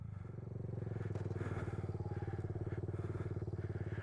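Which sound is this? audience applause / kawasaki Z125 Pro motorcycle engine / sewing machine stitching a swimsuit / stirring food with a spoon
kawasaki Z125 Pro motorcycle engine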